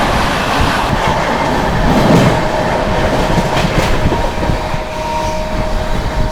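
Inside a speeding Rajdhani Express, a dense steady roar of wheels on track with rhythmic clatter and a faint thin squeal running through, close and loud throughout.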